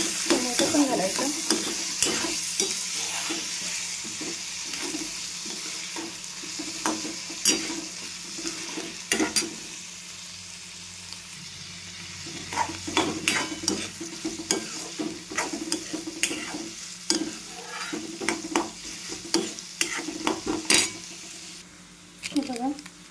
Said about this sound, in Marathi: हे बघा मी छान टमाटर आणि कांदा आहे ना छान भाजून घेतलेला आहे